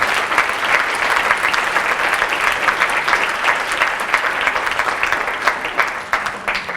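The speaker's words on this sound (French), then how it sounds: "Bravo et sous vos applaudissements." Audience applause fills a women-men equality forum hall, steady dense clapping sustained throughout at full strength, fading slightly near the end.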